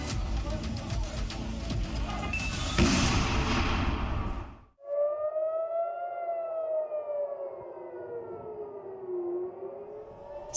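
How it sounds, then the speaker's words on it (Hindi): An air raid siren wails during the Iran–Israel conflict, rising and falling in long sweeping tones, after a stretch of loud noisy rumble that cuts off abruptly. "सायरन की आवाजें"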